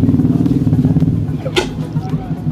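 A motorcycle shock absorber, pulled out after being pressed to its limit, lets out a brief hissing squirt of air through a faulty seal, heard once over a steady idling engine rumble nearby.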